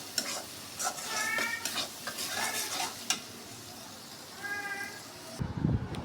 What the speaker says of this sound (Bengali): এখন আর একটু ভালো করে নেড়ে চেড়ে নেব